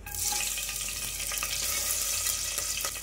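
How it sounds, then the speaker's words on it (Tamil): Cinnamon and fennel seeds fry in hot oil for a vegetable biryani, giving a steady, close hiss and crackle that runs the full length without pause, with a few faint stirring clicks. "எண்ணெய் சூடாயிட்டு பட்டை சோம்பு வந்து சேர்த்துக்கிறேன்."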